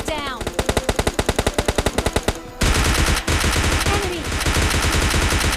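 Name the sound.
gunfire in video game PUBG Mobile Lite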